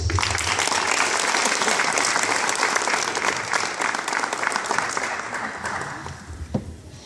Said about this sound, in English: Now let's give a round of applause to the director of the JAG Academy, Ms. Sandy Davis